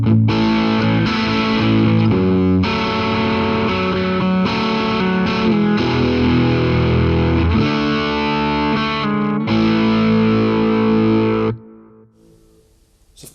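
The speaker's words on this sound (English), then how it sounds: "First I'll kick in the full tone catalyst pedal." Electric guitar on the bridge pickup through a Fulltone Catalyst overdrive pedal set to low gain with a treble boost, a run of loud driven chords and notes played close up, cutting off and dying away at the end.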